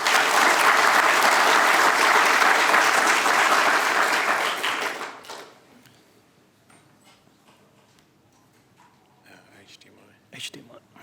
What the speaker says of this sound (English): a bit better than a polite applause.